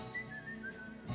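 A person whistles a short wavering tune, a thin high melody of a few gliding notes heard briefly and fairly softly over a faint background.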